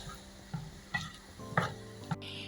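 Watermelon rind being stirred in a pan with a spoon, a series of scraping and clacking strokes roughly every half second over a soft sizzle, close and fairly quiet, with no voices.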